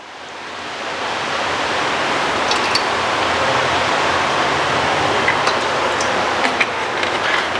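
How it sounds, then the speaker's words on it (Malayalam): Philips electric hand beater whisking eggs for a bakery-style carrot cake, a loud, steady motor whir with a dense hiss, running continuously after a brief ramp-up, with a few faint clicks near the end. "ഇനി നമുക്ക് മുട്ട നന്നായിട്ട് ബീറ്റ് ചെയ്തെടുക്കാം"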